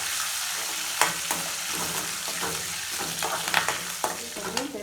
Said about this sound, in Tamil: முந்திரி, கருவேப்பிலை எல்லாத்தையும் போட்டு நல்லா கிளறிடணும்